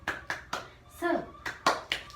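Children in a fourth-grade classroom perform the rhythmic "tepuk semangat" clap chant, with sharp claps in a quick pattern alternating with a chanted voice.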